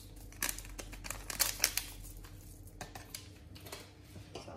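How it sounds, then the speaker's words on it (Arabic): A paper packet of vanilla sugar is torn open and shaken out over eggs and sugar for a semolina cake, giving light crinkling, tearing and scattered ticking rustles close by. "كيس الفانيلا"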